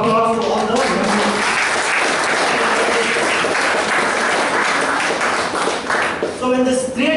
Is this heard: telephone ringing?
no